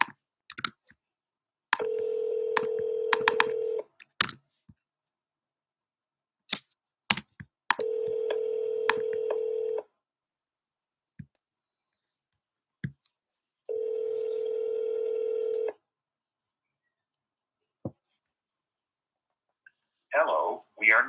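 Telephone call to a real estate lead's number: a few quick keypad dialing beeps, then three long ringback tones separated by silences, with brief clicks and a voice starting at the end.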